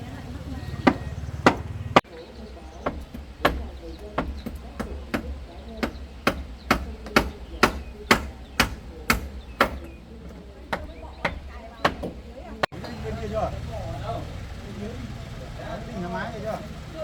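Knife chopping food on a board during flood relief cooking, a run of sharp, fairly close chops in steady rhythm with a brief pause near the middle, over background chatter and clatter.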